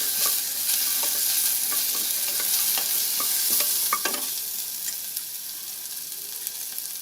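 Crushed garlic sautéing in a pan of oil for a brinjal and karamani kara kuzhambu, a steady close sizzle with scattered stirring scrapes and small pops, no talk.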